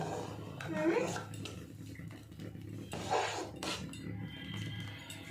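Dishes are scrubbed and washed by hand, with clinking pots and utensils and wet rubbing sounds close by, under intermittent speech.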